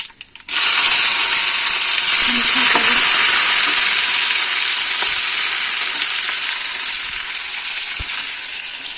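Mustard and cumin seeds hit hot oil and burst into a loud, close, continuous sizzle that starts abruptly and fades slightly while staying dense, with faint popping underneath.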